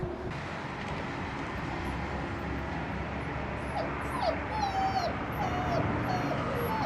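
High, thin whimpers from four puppies rise and fall repeatedly over a steady broadband rumble, becoming more frequent in the second half.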